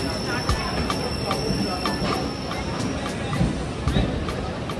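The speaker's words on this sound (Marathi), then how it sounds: "आणि फायनली आली आमची ट्रेन" A train pulls into a crowded railway platform with a broad, continuous rumble and regular metallic clacks from the wheels, while a crowd's voices murmur beneath the noise.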